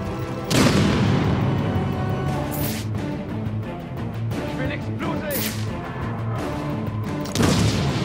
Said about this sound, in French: Je vais l'exploser!